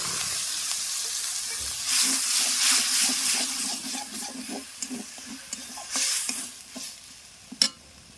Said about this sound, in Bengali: আদা আর রসুনটাকে ভালো করে ভেজে নেব